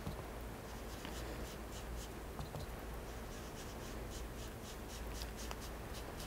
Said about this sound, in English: So I've got my blending tool here. And I'm just going to put my stencil on the paper and make circular motions.